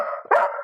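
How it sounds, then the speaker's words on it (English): A dog gives a single short, loud bark close by during indoor obedience training, sounding alone without voices. "that's what I meant with the barking"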